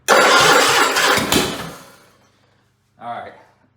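A Kohler Magnum 18 small engine with a nearly dead battery cranks and catches, loud and close for about two seconds before fading out, after which someone briefly speaks.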